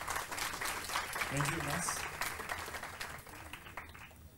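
An audience at a World Wildlife Day regional youth symposium applauds a speaker, a moderate spread of clapping that holds and then thins out while someone speaks briefly over it.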